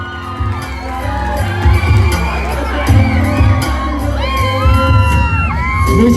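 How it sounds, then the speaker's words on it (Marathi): An audience at a village felicitation event for a Buddha Purnima celebration in Ambeshet, Ratnagiri, claps and cheers loudly for an honoree, a dense continuous roar of applause with shouts and whoops throughout. "सगळ्यांनी जोरदार टाळ्या वाजवायच्या परेशसाठी"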